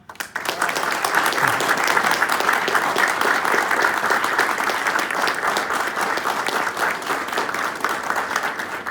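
Audience applause at a US Navy commissioning ceremony, a steady dense wash of many hands clapping that begins abruptly and holds at an even, fairly loud level for several seconds with no speech over it.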